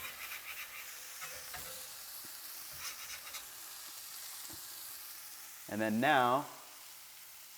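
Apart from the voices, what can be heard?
shallots frying and sizzling on a griddle for burgers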